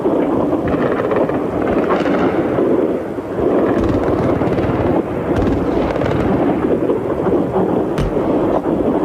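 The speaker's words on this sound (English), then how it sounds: "Oh, these explosions are continuing." Explosions from the 2003 bombing of the Baghdad presidential palace compound rumble as continuous, heavy, thunder-like booms layered with broadband roar, loud and sustained, with no voices.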